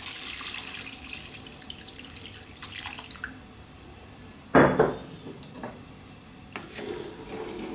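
Water or stock is poured into a pot of lamb stew with meat bones, giving one short, loud splashing gush midway, with faint clinks and drips before and after.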